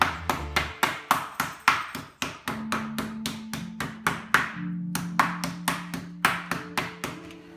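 Turkey meat pounded through plastic with a small hammer-style meat tenderizer, a long run of sharp, evenly spaced thuds and slaps, close and loud, over a faint sustained tone, with no talk.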